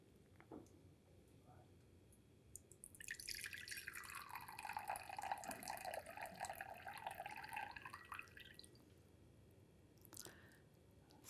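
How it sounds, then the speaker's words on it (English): Last drops of water falling from a pouring vessel in a hands-on pouring lesson, faint, sparse drips with a soft trickle rising and fading in the middle, quiet and close, with no talk over them. "See if we can wait for the last drop."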